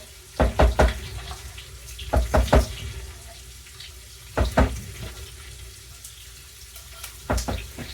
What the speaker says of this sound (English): you're going to fill this back up with water and get a whole can of water as well